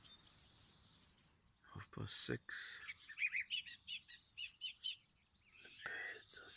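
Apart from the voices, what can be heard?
birds singing in the morning by a river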